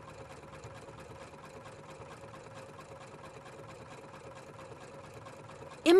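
A Husqvarna Viking sewing machine satin stitches around an applique with a dense, even needle rhythm, quiet and steady, alone until a brief louder sound at the very end.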